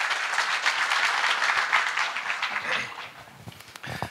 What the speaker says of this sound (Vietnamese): Một tràng vỗ tay cho anh Hưng ạ.